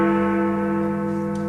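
A large bell struck by its metal clapper rings out in a loud, sustained, shimmering tone that slowly decays, heard alone.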